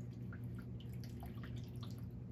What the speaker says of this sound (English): I'm gonna rinse my brush again in the water.